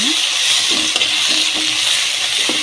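Tomato being stirred into beans and potatoes frying in a pan, a steady close sizzle with a few soft scraping strokes of the spoon spread through it.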